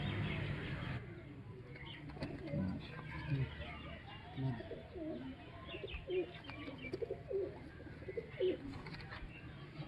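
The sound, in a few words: pigeons cooing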